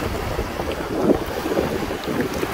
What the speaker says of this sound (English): Dad, have you seen these waves?